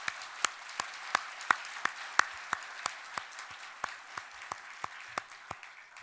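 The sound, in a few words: church congregation applause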